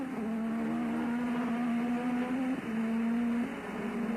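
A 1987 Formula 1 car at the Japanese Grand Prix screams along at high revs, a steady piercing engine tone with a brief dip mid-clip as it shifts, loud and continuous without speech.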